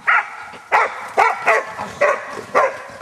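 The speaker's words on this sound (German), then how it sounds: "Mehrere deutsche Wachtelhunde sollten dort, teilweise das erste Mal, mit den borstigen Gesellen in Kontakt kommen." Several German Wachtelhund hunting dogs bark at wild boar in a practice enclosure, giving repeated sharp barks and yips in a steady rhythm about every half second, moderately close over a constant outdoor background.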